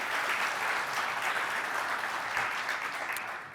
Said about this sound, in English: Round of applause, right?